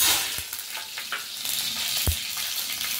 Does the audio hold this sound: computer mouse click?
no